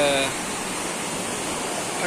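Tungabhadra dam water rushes through the Ramasagara canal tunnel near Hampi as a steady, dense roar that fills the whole clip without pause.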